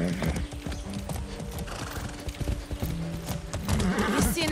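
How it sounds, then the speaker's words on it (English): Horse hooves clip-clop in a rapid galloping rhythm within the Far Cry 6 video game, mixed with a horse's whinny and snorts, loud and close throughout. "I haven't ridden a horse since basic training."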